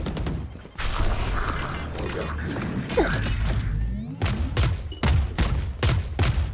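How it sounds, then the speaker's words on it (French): Weapon reload in Valorant, a run of clicks, metallic clacks and sliding mechanical sounds, with short shots and thuds in between, under low game ambience. "Je recharge."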